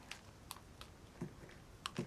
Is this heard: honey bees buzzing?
no